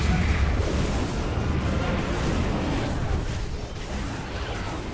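A World of Warcraft spell explosion goes off when a druid shifts form mid-battle: a loud, sustained booming roar with crackling bursts that fills the whole stretch and fades slightly near the end.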